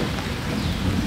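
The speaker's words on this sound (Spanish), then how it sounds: "el día de hoy llovió demasiado recio" Heavy rain pours down in a steady, dense roar, close and loud, with a deep low rumble running beneath it throughout and no voices.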